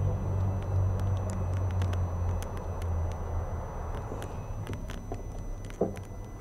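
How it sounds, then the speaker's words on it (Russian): A bread delivery truck idles on a street with a low engine rumble and scattered sharp clicks and taps, a brief thump near the end, fairly quiet overall. "вот хлебная машина"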